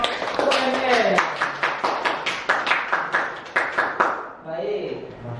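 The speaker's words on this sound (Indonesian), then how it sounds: "beri tepuk tangan untuk kelompok UMR" Applause for a student group in a classroom, a run of sharp claps over a few seconds, with people talking over it throughout.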